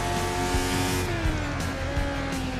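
A Formula 1 car in a racing video game set at the 1984 Australian Grand Prix drones at steady high revs while its tyres squeal through a burst of oversteer, loud and close throughout.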